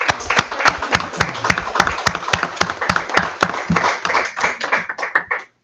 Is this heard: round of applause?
yes